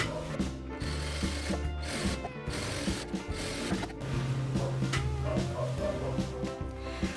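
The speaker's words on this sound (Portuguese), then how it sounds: "eu gosto sempre de passar uma costura aqui em toda a volta," A sewing machine runs in steady bursts, stitching fabric lining and batting together around the edge of a small pouch, its motor whir and needle clatter close and fairly loud with short pauses between runs.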